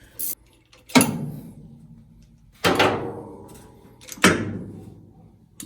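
A harmonic balancer being worked off the engine of a 1965 Chevrolet C10, with three loud metallic clunks and scrapes spaced about every second and a half, each ringing briefly before fading, with no talk.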